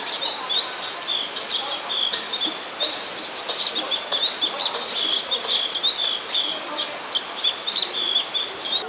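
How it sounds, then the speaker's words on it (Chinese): Birds sing at 7 am at the Fushan campsite in Wulai, New Taipei, with many bright chirps and tweets overlapping continuously. The birds sound fairly close, with soft outdoor background noise. "我们先来收听一段这段活动报道现场的鸟叫声。"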